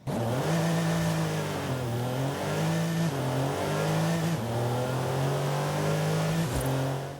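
Loud engine of a BMW M3 Competition Sedan in Forza Horizon 5, revving and shifting through gears repeatedly, pitch climbing then dropping with each change.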